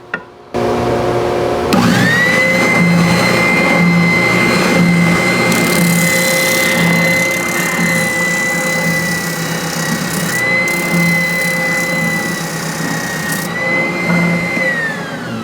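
A drum sander fitted with its larger drum sands the upper part of a neck-thru guitar body. A loud, steady motor whine rises after a brief start and holds at an even pitch, with a shifting grinding hiss from the wood.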